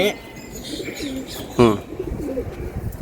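Giribaz pigeons coo in low, soft repeated phrases, with a brief louder flutter of calls midway, close by.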